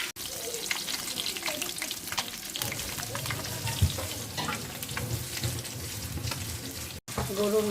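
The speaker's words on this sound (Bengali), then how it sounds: "মাছগুলো ভাজা হচ্ছে।" Fresh pond-caught fish sizzle steadily as they fry in a pan. There is constant crackling, with brief stirring or scraping noises now and then.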